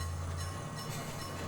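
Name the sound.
small train driving around the square in the movie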